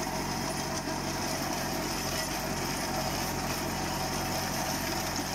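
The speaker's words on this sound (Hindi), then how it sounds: "और ट्रैक्टर भी एकदम स्मूथ चल रहा है।" A tractor drives a Lancer rotavator through a field, giving a steady, smooth engine drone with a constant mechanical hum and no breaks, loud and close throughout.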